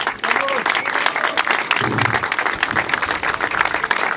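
An audience applauds at a speech and thank-you gathering, dense sustained clapping from a crowd with some voices mixed in, loud and steady throughout.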